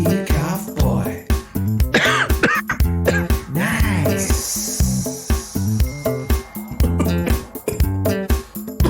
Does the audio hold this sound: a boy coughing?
yes